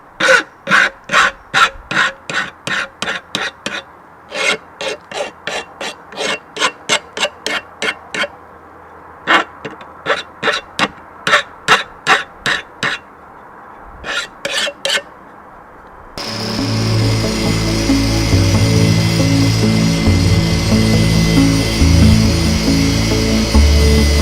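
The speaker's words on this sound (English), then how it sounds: "the bevel that will form the actual blade, I will start with the angle grinder" Rhythmic rasping strokes of a hand file on a steel knife blade give way to the continuous, loud, gritty whine of an angle grinder taking metal off the blade bevel, heard close up.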